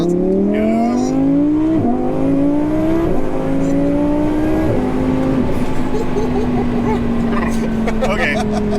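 A 1400hp twin-turbo Audi R8 Spyder accelerating hard, its engine note climbing through several gear changes with short dips between pulls, loud and close throughout, then settling into a steady high cruise with wind noise.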